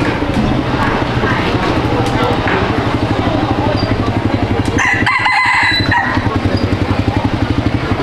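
Chickens, hens and a rooster crowing, kept in a coop by a forest, fill the clip with steady clucking and a loud nearby crow, while a person speaks throughout and a brief engine-like rattle passes midway.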